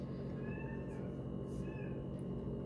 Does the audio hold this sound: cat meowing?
yes